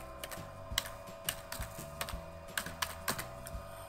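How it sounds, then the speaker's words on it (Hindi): Someone types a password on a computer keyboard, a quick irregular run of close, crisp key clicks over faint background hum. "इसका पासवर्ड मैं लिखता हूँ"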